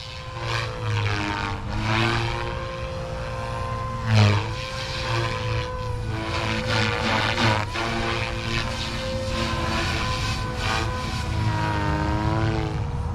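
An OMP Hobby M4 RC helicopter runs at idle up 90%, a loud, continuous, close motor whine with rotor buzz that shifts slightly in pitch as the collective is worked.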